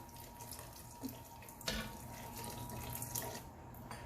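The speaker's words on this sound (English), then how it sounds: "I'm gonna add in some beef broth" Beef broth being poured into a pot of braised beef cheeks, a faint steady stream of liquid splashing with a couple of small clinks, quiet and close.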